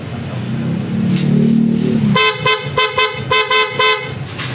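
After a low engine idle, a loud aftermarket horn on a Honda ADV160 scooter blares in a rapid series of short, evenly spaced honks, close and piercing.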